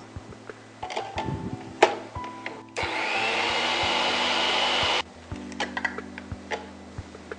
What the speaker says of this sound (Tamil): ஃபஸ்ட்டு கசகசாவை போட்டு பொடி பண்ணிக்கோங்க